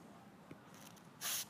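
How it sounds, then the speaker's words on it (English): A can of silicone spray gives a short, close hiss while lubricating the ends of a speargun rubber, a single quick burst after faint handling noises. "we're going to use the silicon spray to lubricate the ends of the rubber."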